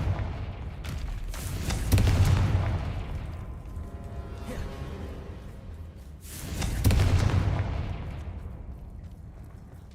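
Two booming Confringo spell explosions in Hogwarts Legacy, one near two seconds in and another near seven, each a low rumbling burst that fades slowly under a steady game background.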